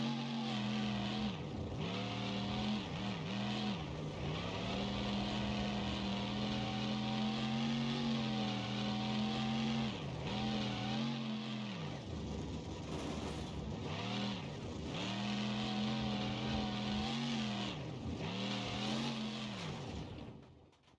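Brutus monster truck in BeamNG.drive fitted with Monster Jam engine sounds, a loud, steady droning V8 that surges and dips through revs, with occasional tire noise and no talking.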